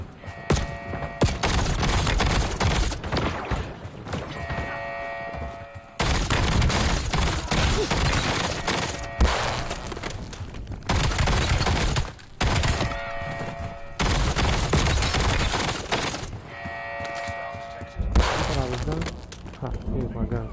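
A minigun in Call of Duty Black Ops 7 fires in long, loud, sustained bursts of rapid gunfire, broken by short pauses, with other battle noise mixed in.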